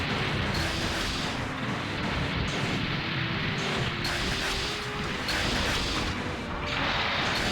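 Missile fire and a rumbling barrage in Zoids: Battle Legends on GameCube, a continuous heavy roar of launches and impacts that holds steady throughout.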